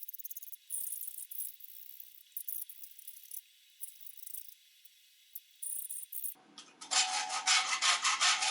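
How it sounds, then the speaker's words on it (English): A steel wedge for a blacksmith post vise being shaped with a hand file, repeated scraping strokes in uneven bursts, close and bright, followed by a denser rasping stretch at the end. "a little more filing on each end in order to kind of round everything over"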